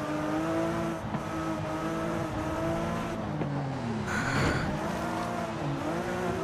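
Race car engines drone steadily in Forza Horizon 5, pitch rising and dipping through gear changes, with a brief tire squeal and skid mid-race, close and continuous without talk.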